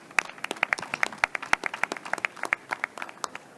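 Sparse, distinct hand claps from a small audience at a health tech competition greet the CardioSense team, a few people clapping unevenly and fairly close for several seconds.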